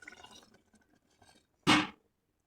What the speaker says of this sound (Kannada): ಈಗ ನಿಮಗೆ ಎಷ್ಟು ಗ್ರೇವಿ ಬೇಕು ನೋಡಿಕೊಂಡು ನೀರು ಹಾಕ್ಕೊಳ್ಳಿ.